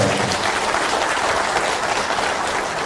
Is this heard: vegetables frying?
no